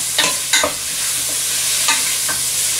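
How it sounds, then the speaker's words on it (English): Mushrooms sautéing in a little oil in a hot pan give a steady sizzle, with a few sharp scraping stirs near the start and again toward the end. No one talks over it. "I'm going to saute those around, let those mushrooms kind of cook down."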